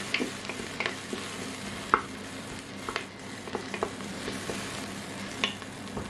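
Onions fry in a pan and are stirred, a steady soft sizzle broken by scraping and clinking of a utensil against the pan at close range, with no talking.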